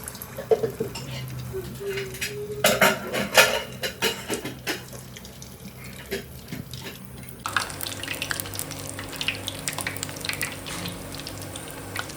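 Soaked chickpeas are strained in a home kitchen: metal pots and utensils clatter and scrape, and water runs and splashes, with irregular clinks close by.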